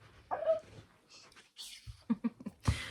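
A grown pup whimpers and yips indoors, several short high whines and little vocal bursts broken by pauses, fairly close and quiet, with no talking.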